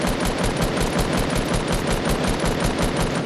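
Rapid automatic gunfire in Fortnite, one dense, continuous burst of loud shots, close and unbroken for several seconds.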